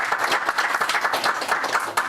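Audience applause at a Meru county gathering, a steady dense patter of many hands clapping at close range, continuing evenly throughout without speech on top.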